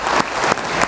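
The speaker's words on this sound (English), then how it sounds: "Let's give him a round of applause." Audience applause at a Native American summit, a dense wash of many hands clapping with a few louder swells, steady and fairly close throughout.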